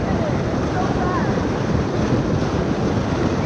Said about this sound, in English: River's got some power